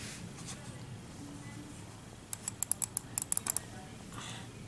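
A quick burst of typing on a Logitech MK240 wireless keyboard, about a dozen crisp clicks in uneven rhythm over a quiet room hum, close to the listener.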